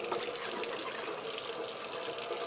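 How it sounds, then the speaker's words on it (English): Water rushing steadily to rinse out a CPAP hose, a continuous close gushing flow like a running tap, with no voices. "make sure that the hose gets all rinsed out"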